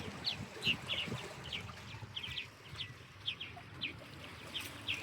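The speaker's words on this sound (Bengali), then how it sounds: "ওই যে দেখেন পাখিগুলো" Birds near a nest by Seneca Lake give repeated short, bright calls at an uneven rhythm, moderately close, over faint outdoor background noise.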